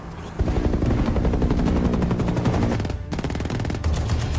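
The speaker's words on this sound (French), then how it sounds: "Johnny tire à l'aveuglette dans le ciel." Automatic gunfire blasts skyward at a helicopter during a film action scene, rapid loud bursts of machine-gun fire rattling almost continuously, with a short break before a second volley.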